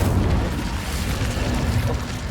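Incendio fire spell cast in the Hogwarts Legacy video game, a dense, loud rushing roar of flame with a deep rumbling body, sustained and unbroken without a clear onset or end.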